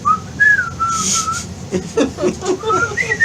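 A person whistles a wavering melody up close, briefly interrupted by mixed voices and noise before the whistled tune returns.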